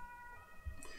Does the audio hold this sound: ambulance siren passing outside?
yes